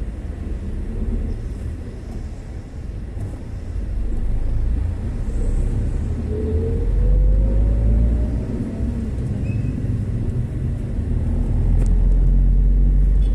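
Rush-hour road traffic heard from inside a vehicle, a continuous low rumble of engines and tyres that swells and fades, with a faint rising whine passing midway.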